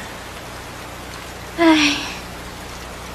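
Steady rain falls as an even hiss throughout, with a short vocal exclamation rising briefly over it partway through.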